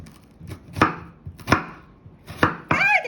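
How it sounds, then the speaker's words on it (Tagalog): Onions cut with a knife on a board for a prawn noodle dish: four sharp, separate chops spaced roughly evenly, close and loud, with a scraping rustle at the end and no talk. "I'm gonna chop the onions."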